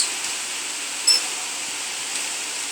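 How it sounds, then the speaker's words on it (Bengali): Water spraying and splashing like steady rain close beside a waterfall outdoors, a constant broad hiss with a brief louder burst, no talking. "সুন্দর বৃষ্টি। আমরা বেশিক্ষণ থাকতে পারবো না, কারণ এখানে পানি ছিটকে আসছে।"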